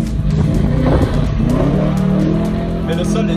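A BMW M3 E92 with a straight-pipe exhaust revs hard on the throttle while drifting around roundabouts on slippery ground, a loud raspy engine roar with brief tire noise, with someone talking over it.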